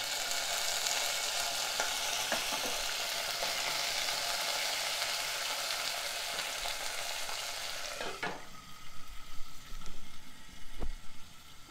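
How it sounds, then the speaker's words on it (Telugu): Moringa drumsticks sizzle steadily in a covered pan, a constant close frying hiss with occasional clinks and stirring knocks toward the end. "మూత పెట్టి ములక్కాడ కొంచెం వేగనివ్వాలి."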